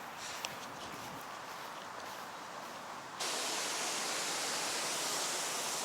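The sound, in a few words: White River of Indiana water flowing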